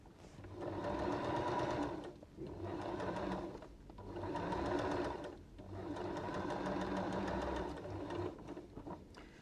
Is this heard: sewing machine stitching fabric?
yes